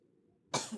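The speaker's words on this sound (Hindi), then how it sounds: "यहाँ पे खांसी हो रहा है मेरा बहुत" A single short, close cough erupts abruptly after near-silence from a lecturer who is unwell and coughing in a warm room, heard alone with no talk.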